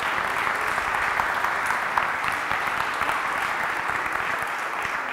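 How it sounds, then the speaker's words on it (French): An audience at a conference on business innovation applauds, a dense, steady wash of clapping hands held evenly for several seconds, loud and without speech. "Alors, Stéphane, on vous applaudit, on vous accueille sur la scène avec nous."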